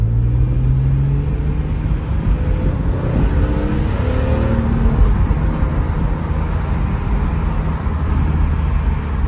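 A BMW M3 E46 engine rumbles steadily and close, with the pitch swelling and rising in a few revving sweeps over a constant low roar.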